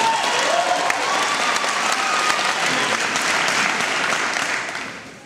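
A crowd in a hall gives loud, sustained applause right after the opening lines of a historian's speech, thick overlapping claps holding steady before tapering off at the end.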